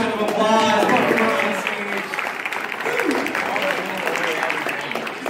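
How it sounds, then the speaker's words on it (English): An audience at a school show claps in steady, dense applause that rises loudly and then holds at a sustained level, mixed with a speaking voice and crowd noise. "Let's give a little round of applause."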